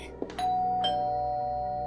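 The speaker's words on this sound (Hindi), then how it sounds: "डोरबेल वापस वैसे ही जोर जोर से बजने लगी" A doorbell chimes once, a clear electronic ding-dong that rings out and slowly fades, heard alone.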